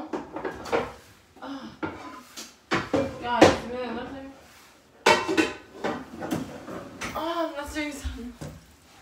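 A frying pan is pulled out and handled in a home kitchen while scrambling eggs, producing a series of sharp metallic clanks, knocks and rattles in uneven bursts, close and fairly loud.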